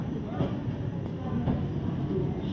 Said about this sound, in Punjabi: ਲੋ ਜੀ ਟ੍ਰੇਨ ਤਾਂ ਚੱਲ ਰਹੀ ਹੈ